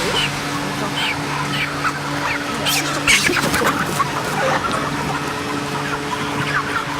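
Dense clucking and chattering from a crowded barn of roughly 40-day-old broiler chickens, a continuous close flock din with individual calls popping out over the steady murmur.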